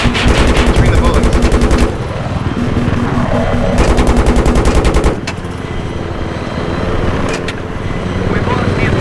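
Battlefield 3 gunfire on Wake Island: rapid machine-gun bursts rattle loudly and close, mixed with vehicle and battle noise, while voices talk over the action.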